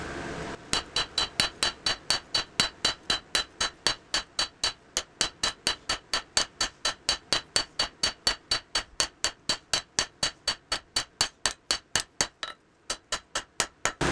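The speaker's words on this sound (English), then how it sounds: "We're going to be hammering primarily on the bottom half of the blade" A rounding hammer strikes hot steel steadily while forging the bevels on the bottom half of an integral bolster cleaver blade. Dozens of evenly spaced, ringing blows sound close and loud, with one brief pause near the end.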